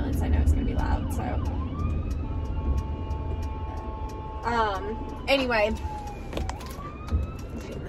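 An ambulance siren wails and yelps as it passes outside a car on a commute. The rising and falling tones are fairly distinct midway through and sit under a person talking over road noise.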